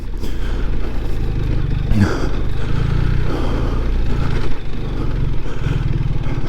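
A BMW 1300 GS boxer-engine motorcycle rides off road on a rutted trail at low speed, its engine a loud, steady rumble with clattering from the rough ground throughout.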